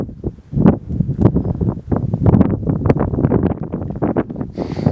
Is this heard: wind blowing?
yes